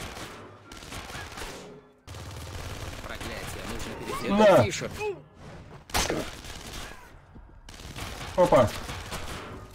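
Bursts of gunfire in the video game Splinter Cell: Conviction, rapid volleys of shots arriving in clusters between stretches of in-game dialogue and a player's voice speaking.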